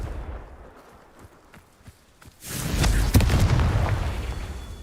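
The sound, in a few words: Confringo spell blast from the video game Hogwarts Legacy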